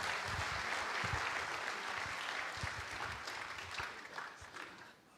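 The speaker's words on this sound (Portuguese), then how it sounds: "Irmãos, uma salva de palmas por esta brilhante ação." Audience applause at a book launch, steady dense clapping from a room full of people that carries on for several seconds before slowly thinning and fading toward the end.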